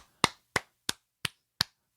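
Five slow, evenly spaced hand claps, sharp and close, each ringing briefly before the next, with no talk.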